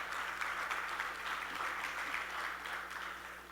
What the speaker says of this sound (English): You need to give some applause for all of you being here